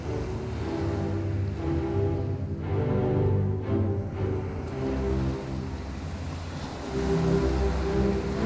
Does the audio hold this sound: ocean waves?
yes